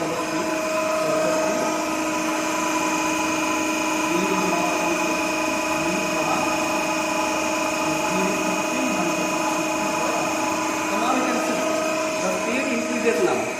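DC shunt motor running on a test bench during a speed-control test at around 1500 rpm, a steady tonal whine and hum held evenly throughout at moderate level with no talking.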